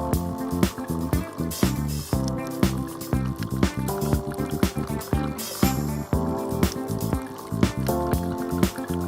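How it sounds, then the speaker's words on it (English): Nescafé Dolce Gusto Colors coffee machine dispensing milk for an iced cappuccino, a steady wet gurgling and dripping flow with rapid spluttering pops throughout, heard alone at moderate level. "Once the milk flow has stopped"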